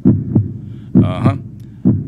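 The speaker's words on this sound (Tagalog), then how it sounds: "Yan hong the usual heartbeat na inyo napapakinggan." A loud, close heartbeat plays over a radio show, giving strong low double thumps in a steady rhythm, with a faint hum and a brief brighter throb between the beats.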